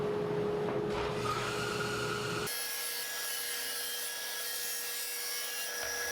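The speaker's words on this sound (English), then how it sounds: "I used a jig to clamp down the wood and run it through the table saw" A table saw rips through walnut boards held in a jig, giving a loud, rough cutting roar for a couple of seconds before the blade settles into a steady, high whine as it runs free.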